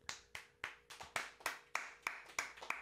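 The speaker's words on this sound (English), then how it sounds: "Can we get a round of applause for Preston?" A single person claps about ten times in an even rhythm, sharp close-up hand claps, fairly quiet and alone without talking.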